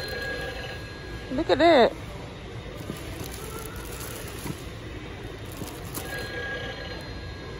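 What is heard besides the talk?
Christmas Santa Claus novelty telephone ringing at Lowe's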